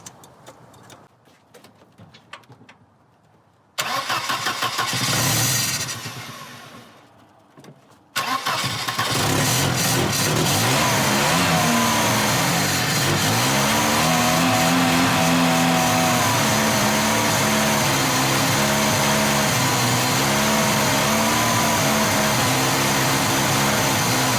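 A Volvo 240 with new battery cables cranks briefly, then its engine catches and runs with a steady, loud idle that continues without any voices.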